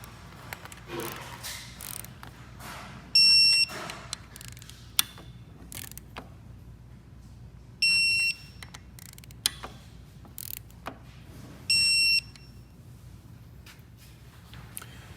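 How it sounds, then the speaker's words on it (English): Torque wrench tightening bolts on a KTM 790 motorcycle during a shift kit install, three distinct clicks spaced a few seconds apart among close ratcheting and handling of tools and metal parts. "we're going to set our torque wrench to 10 Newton meters and torque all of these"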